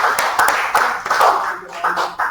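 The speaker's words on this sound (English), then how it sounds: "Please clap for him now." Audience clapping for a professor being introduced at a health research ethics meeting, a small group's uneven claps, close and fairly loud, with a murmur of voices underneath.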